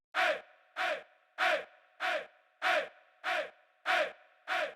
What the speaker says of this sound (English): This hey chant.